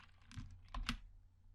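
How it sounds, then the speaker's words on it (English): Ctrl+S pressed on a computer keyboard, a few quiet close-up key clicks in quick succession, the last pair landing almost together in a still room. "I'm clicking on Ctrl+S button"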